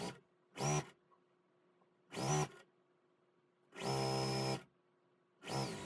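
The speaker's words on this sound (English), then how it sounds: "So I'm going to get this strip sewn on." A sewing machine stitches a strip onto a quilt block in four separate runs, mostly short bursts and one longer run, each a loud close mechanical whir with quiet pauses between, and no speech.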